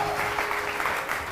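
A studio audience on a TV morning show applauds, a dense continuous wash of clapping from many hands throughout.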